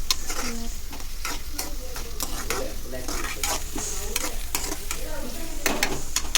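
Steady sizzling from a hot pan with repeated scraping strokes of a spoon stirring egg curry masala, close and continuous.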